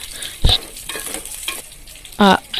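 Onion frying in oil in a pan makes a quiet sizzle under two loud, brief bursts of stirring and scraping against the pan, the second one rattling.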